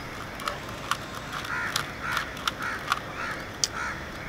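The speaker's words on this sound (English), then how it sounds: "These stupid birds" Crows cawing outdoors, a series of sharp, evenly spaced caws repeating about every half second over a steady background hiss, moderately close and alone without any talk.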